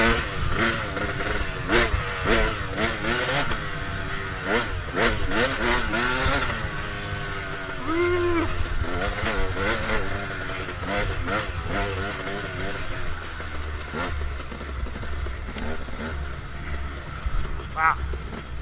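A KTM 300 two-stroke dirt bike fitted with a Billitrron carburetor revs repeatedly in sharp, snappy bursts, loud and close, with people talking over the engine.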